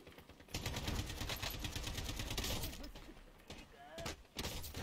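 Rapid gunfire rattles through a Vietnamese video game match, bursts of automatic shots and impacts running almost continuously, loud and close, with short gaps and a final volley near the end.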